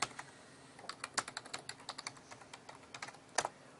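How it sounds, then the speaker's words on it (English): Login details tapped out on a computer keyboard: a quick run of irregular, crisp key clicks with short pauses and one louder keystroke near the end, close and clear with no talk. "And I'm going to type in my information."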